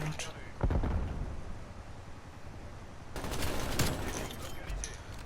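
An LC10 submachine gun fires in Call of Duty Cold War, with rapid bursts of gunfire and explosive game noise filling the clip while a player talks over the action.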